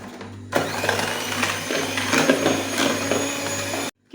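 Electric hand mixer whipping two eggs with half a cup of sugar and a pinch of salt, a steady close whir that starts abruptly, runs unbroken with slight pitch wobble, then cuts off.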